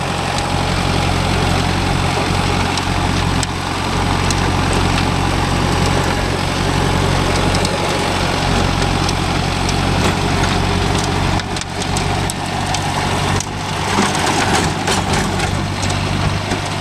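A Mahindra Arjun Novo 605 tractor engine runs loud and close in a farm field, a heavy continuous diesel rumble that holds steady for the whole stretch with no talk over it.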